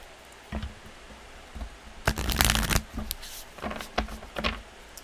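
A deck of oracle cards is shuffled by hand, several short riffling bursts and one longer flurry in the middle, close and fairly quiet against a soft room background.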